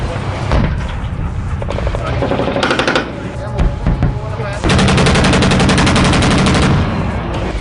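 Army tanks and weapons firing during a military exercise in Rajasthan: loud, rapid bursts of automatic fire and heavy rumbling, with a long sustained rattling volley near the end.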